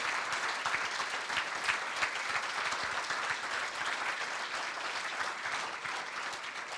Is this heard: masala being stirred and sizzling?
no